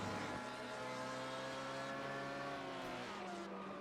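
Onboard engine of a Porsche race car in iRacing at Watkins Glen, a loud steady multi-harmonic drone with pitch sweeping as the revs change, continuous throughout with no talk.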